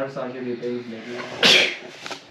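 A single loud, sharp sneeze bursts out midway through nearby indoor conversation in a doctor's waiting room, with talking before and after it.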